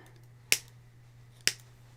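Two sharp, crisp snips of scissors cutting apart a paper card die cut, about a second apart, close and clear against a quiet room.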